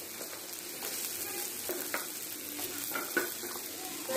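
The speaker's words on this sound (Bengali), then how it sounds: "আগে থেকে যে কেটে রাখা আলু সেটা আমি একটু ভালো করে ভেজে নেব" Cut potatoes frying in mustard oil in a kadai, a steady bright sizzle filling the pan with occasional louder crackles and pops, close and continuous with no talking.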